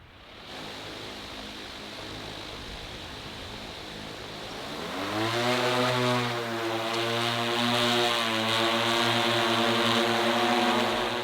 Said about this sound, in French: Ce jour-là, Eric va procéder à 8 largages de graines à une distance d'environ 500 mètres du point de décollage.